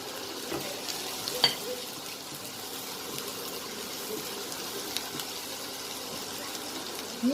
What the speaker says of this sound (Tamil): இஞ்சி பூண்டு பேஸ்ட்டு நல்லா பொரிஞ்சு வந்ததும் பச்சை மிளகாய் போட்டுடலாம்.